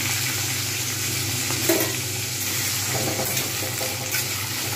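Potatoes frying in oil in a pan along with fenugreek greens and spring onion: a loud, steady sizzle close up with occasional stirring scrapes, no voices.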